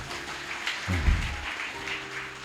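Audience applause at a Telugu Catholic sermon gathering, a steady wash of clapping throughout with a low thump near the middle, no voices.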